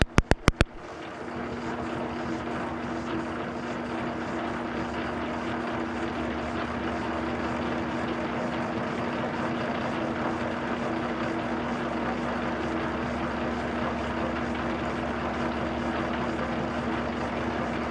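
A Harley magneto spins on a test rig at about 300 RPM, producing a steady mechanical whir with a constant low hum after a few sharp clicks at the start, close and even, with no speech.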